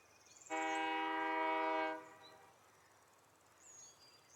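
Steel freight train in Workers & Resources sounding a loud, steady multi-tone horn for about one and a half seconds, then fading into quiet ambient background.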